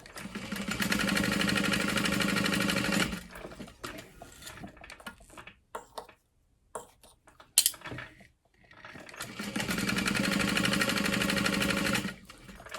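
A sewing machine stitches card slots for a small fabric clutch wallet, running in two long steady bursts with a pause of handling noises between them.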